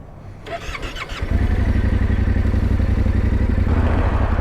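A 2025 Yamaha Tenere 700 motorcycle: a starter whir and a few clattering turns give way to a loud, close, steady thumping idle that runs to the end.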